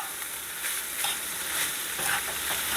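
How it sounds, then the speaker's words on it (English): Hamburger meat for chili sizzles steadily in a hot pan while it is stirred, with a dense frying hiss and a few soft scrapes, close and alone. "Just give that a quick stir."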